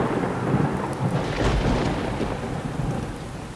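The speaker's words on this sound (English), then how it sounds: "Not just a drizzle, but a full-on thunderstorm, the kind that shakes the ground and makes you feel small." Full-on thunderstorm at night in the woods, heavy rain pouring steadily while deep rolling thunder rumbles underneath, dense and close throughout with no voices.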